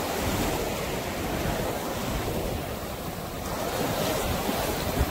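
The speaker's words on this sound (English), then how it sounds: "The waves are pretty decent today." Ocean surf breaking along Cardiff State Beach in San Diego, where surfers are out, forms a continuous broadband wash of waves with steady wind buffeting the microphone and no voices.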